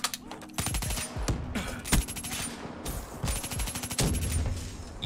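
Bursts of automatic gunfire in Black Ops 3 Search and Destroy as a thrown C4 is shot, several loud rapid volleys with short pauses between, close and dominant, with no talk.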